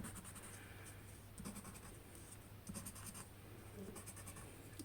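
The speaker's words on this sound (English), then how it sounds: "first we're using the pink one, the color pencil on here" A pink colored pencil scratches across a gesso-coated junk journal book page, soft close strokes in short bursts with a steady faint hum beneath.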